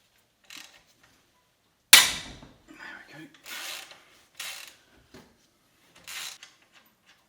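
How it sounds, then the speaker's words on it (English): Allen bolts being loosened on a Suzuki Intruder VS1400 engine during teardown: a sharp metallic crack as one bolt breaks free, followed by several short ratcheting turns and scrapes, close and dry with quiet gaps between. "So I'm going to loosen up these Allen bolts up here."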